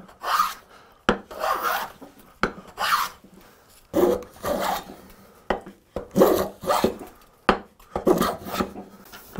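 A hand plane shaves a tall chunk of walnut braced against a planing stop, each stroke a loud, close, coarse rasp lasting about a second, repeating in an even rhythm with brief gaps between passes.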